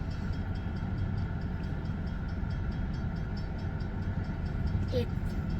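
Locomotive GRE 2043 moves covered hopper cars onto a siding beside a mill, a steady low rumble and grind of railcars rolling at moderate distance, fairly faint and continuous throughout.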